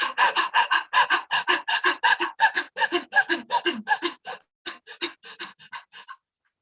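Fast rhythmic breathing during a guided breathing exercise, about thirty quick panting breaths in and out at a steady pace, close and alone, stopping near the end.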